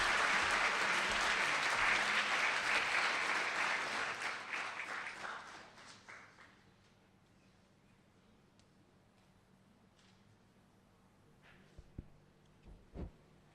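Audience applause fills a hall at a university student leadership awards ceremony, loud and dense for about four seconds, then thinning and fading away into quiet room tone with a few faint knocks near the end.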